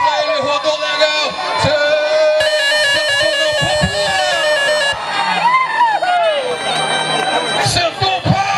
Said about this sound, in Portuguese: as palmas a ele